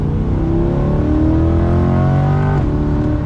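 A 2022 Chevrolet Corvette Stingray 2LT Z51 pulls hard in third gear from around 3000 RPM, its engine droning loud and close as the pitch climbs steadily, with a brief dip near the end.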